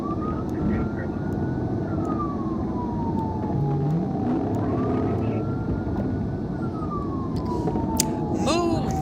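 Emergency vehicle sirens wail through a residential street, a rising and falling tone sweeping up and down over heavy traffic rumble, with brief clatters and a horn-like blip near the end.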